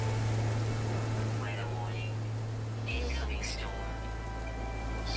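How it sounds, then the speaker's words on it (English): Superheated rain falling on a planet in No Man's Sky, a dense steady hiss of rainfall heard throughout, with a voice talking over it. "Superheated rain."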